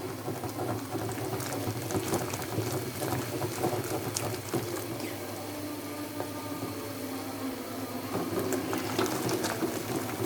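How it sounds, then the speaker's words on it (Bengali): A pot of lentil dal with drumsticks bubbles at a steady boil, with a constant busy bubbling and frequent small clicks and knocks of stirring, close up and with no voices. "দাঁড়াও, এখন ডালটা ঘুটে দিব"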